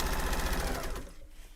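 A serger sewing machine runs steadily while stitching fabric cake cozies, a rapid close mechanical whir and clatter that stops abruptly about two-thirds through, leaving quieter room tone.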